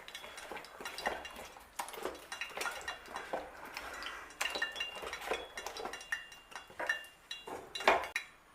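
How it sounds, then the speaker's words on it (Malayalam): A spoon stirs jackfruit unniyappam batter with grated coconut, raisins and cashews in a bowl, giving irregular clinks and scrapes against the dish, close and fairly quiet, with no talking. "ഇത് നന്നായിട്ടൊന്ന് മിക്സ് ചെയ്യാം നമുക്ക്."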